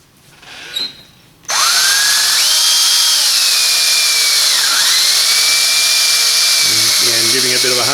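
A spring-loaded stone hone driven by a drill works inside the master cylinder bore of an EH Holden, starting abruptly after a short quiet moment into a loud, sustained high whine with shifting pitch and a buzzing rattle near the end.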